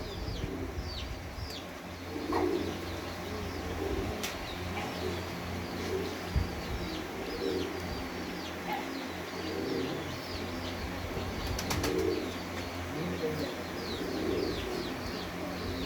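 Breeder and flying pigeons coo steadily, low rolling calls repeating every second or two against constant background noise and scattered sparrow-like chirps.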